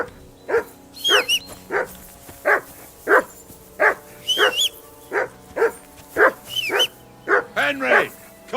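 A dog in the Kingdom Come: Deliverance 2 video game barks repeatedly in short, loud, evenly spaced bursts, close by, with a few higher yips and whines between barks over a low background.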